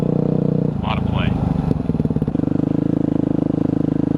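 A 2009 Yamaha WR250F dirt bike engine runs steadily and loudly close by while riding, with a brief rising rev and clatter partway through and a person talking over it early on.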